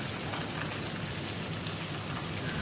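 Heavy rain driven by wind pours down in Hyderabad, a dense, constant hiss of drops on surfaces with no letup across the short stretch, close and fairly loud, with no voices.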